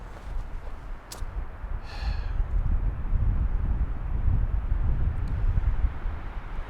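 Wind buffets the microphone of a hiker backpacking the Chipmunk Trail on the Mogollon Rim between Pinetop/Lakeside and Greer, a low, rumbling roar that swells and stays steady, with a couple of brief faint clicks early on.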